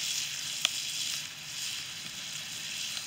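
Bacon being pressed on a backyard barbecue grill sizzles in a steady, close hiss, with one sharp tap of the press partway through and no talking.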